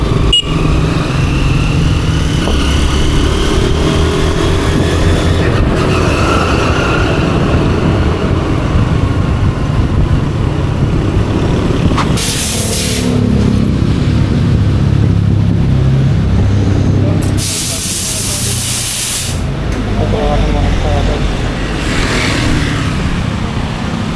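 A Yamaha Aerox V2 scooter on the move, its engine a steady close drone mixed with rushing wind noise that swells briefly at a few points, with no talking.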